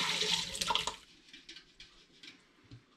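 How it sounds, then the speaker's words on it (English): Home-brewed raspberry ripple porter pours from a pot in a loud, splashing gush for about a second, then trickles and drips more softly. "rather than use the jug, I think I'm going to brave a pour this time"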